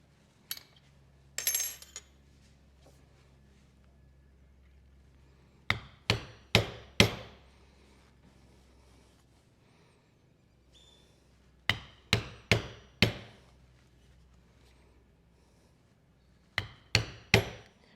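An awl chases holes through exotic leather, making sharp tapping clicks in quick clusters of three or four. The groups are separated by quiet gaps, and there is a brief scrape early on. The taps are close and crisp.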